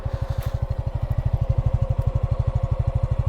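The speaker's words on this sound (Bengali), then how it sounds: "অনেক ফ্রেশ একটা ইঞ্জিন সাউন্ড দিচ্ছে বাইকটা থেকে," A brand-new Suzuki Gixxer 155 fuel-injected ABS motorcycle idles up close, a loud, smooth, rapid and perfectly even engine thrum with no other sounds.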